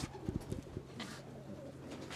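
Pigeons cooing at close range, with a cluster of soft, low, throaty coos in the first second followed by quieter cooing over a faint steady background hum.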